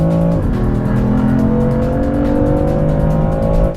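BMW F80 M3 with a turbocharged straight-six engine, heard from inside the car, holds a loud, steady drone that rises slightly in pitch as it revs, with a short tire squeal near the start and no talking.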